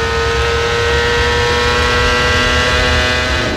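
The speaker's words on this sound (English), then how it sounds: "Let's listen up here and see if we can notice anything wrong with the car." A CART race car at the 2000 Toronto round accelerates onto the backstretch, its engine a loud, steady, sustained drone that holds throughout with no talk.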